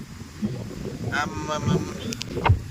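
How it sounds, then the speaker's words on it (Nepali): Gusty wind buffets the microphone in a low rumbling roar, rising and falling over a few seconds, with a voice speaking over it. "यहाँ चाहिँ नि हावा चाहिँ यति बेसी उडाउँला जस्तो आउँदो रहेछ"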